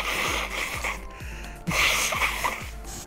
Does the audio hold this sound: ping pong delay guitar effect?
no